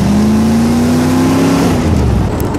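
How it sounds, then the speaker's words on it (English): A Chevrolet Camaro V8 revs loud and close, its engine note climbing steadily and then easing off, with a dense rumble under the tone and no voices. "Rocking a Camaro. Oh yeah, the Camaro. The V8."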